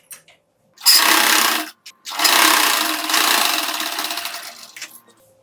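Electric sewing machine stitching puff sleeve fabric, running in two close bursts of rapid, steady whirring with a short pause between, alone in a quiet room.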